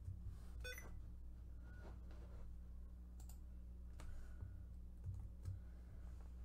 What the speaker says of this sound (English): now I'm just going to type in